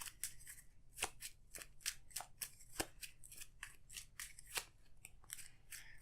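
Cards from an Arkham Horror card game being shuffled by hand at a table, a continuous run of crisp, close riffling snaps and flicks lasting several seconds, with no talking.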